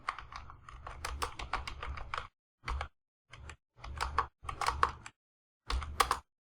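Python code being typed on a computer keyboard: quick bursts of close, crisp key clicks, a dense run at first and then short separated flurries with brief pauses between.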